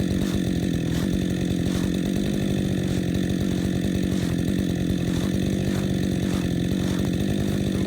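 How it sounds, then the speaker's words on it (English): A chainsaw idles after a big cut through a California black walnut stump, running with a loud, steady engine chug and a faint rhythmic pulse throughout. "After a big cut like that, let your saw idle, cool down"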